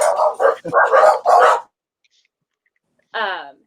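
A dog gives a short bark or yelp, loud and close, after a stretch of lively voiced sound and a pause of silence.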